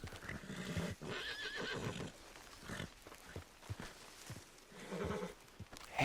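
A horse in Red Dead Online neighs and whinnies repeatedly, close and agitated, with snorts and clip-clopping hooves under the calls.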